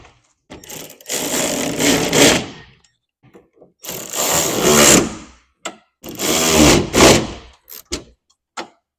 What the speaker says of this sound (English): the use of an electric ratchet can greatly help this process